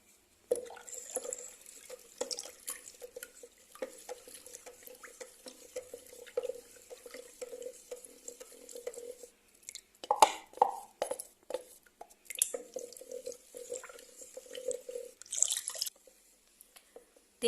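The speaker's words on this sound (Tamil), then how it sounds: "அதை இந்த வாட்டரோட ஆட் பண்ணி நல்லா மிக்ஸ் பண்ணிக்கலாம்." Liquid detergent mix being stirred into water in a container at home, a steady run of soft sloshing, dripping and clinking strokes that keep going throughout, fairly quiet and close with no talking.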